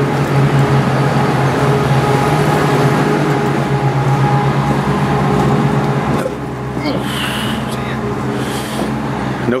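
A train pulling out of a station bound for Huddersfield, a loud rumbling roar with a steady engine drone that drops away after several seconds, leaving quieter station ambience with a brief high squeal.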